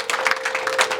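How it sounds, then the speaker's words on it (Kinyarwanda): Wedding guests break into a short burst of applause for the young men, quick overlapping claps for about a second with a faint sustained tone underneath. "mureke tubakomera amashyi bano basore"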